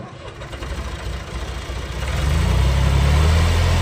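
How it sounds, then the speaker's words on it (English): A John Deere 1530 tractor with a loader cranks briefly, then its diesel engine fires and rises into a loud, steady, rumbling idle nearby. "Starts up nice and easy."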